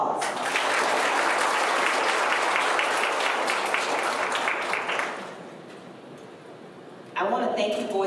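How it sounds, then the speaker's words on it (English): A crowd at a D.A.R.E. graduation ceremony claps loudly and steadily for about five seconds, then the clapping fades into quieter room noise before a voice begins speaking. "Let's give everybody a round of applause."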